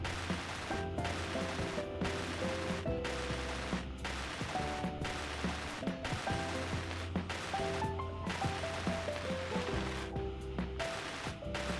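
The welding tool in Space Engineers runs in a continuous mechanical ratcheting grind with rapid clicking pulses and tonal hums, repeating in bursts that cut off and restart, loud and close with no talking.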